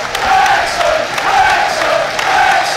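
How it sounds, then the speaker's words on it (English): Football crowd in the stand at Wrexham against Forest Green Rovers, a loud sustained roar of many voices with rhythmic chant-like swells. "Listen to that crowd."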